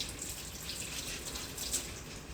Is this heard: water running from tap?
yes